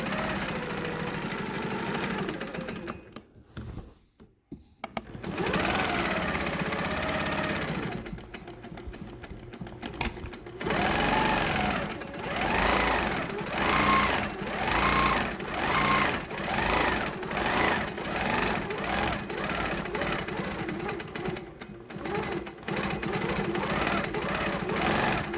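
Home sewing machine stitching flying geese quilt blocks with a ruler held near the needle, running steadily and close with a brief stop partway, then a long continuous whirring stretch.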